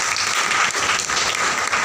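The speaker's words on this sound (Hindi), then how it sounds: "सर के लिए जोरदार तालियां" An audience at a Yashbiz Marketing business plan seminar breaks into loud, dense clapping that holds steady for the whole short stretch, with no speech over it.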